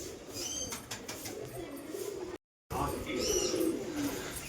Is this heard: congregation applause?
no